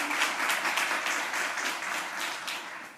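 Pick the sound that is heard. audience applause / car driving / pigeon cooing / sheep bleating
audience applause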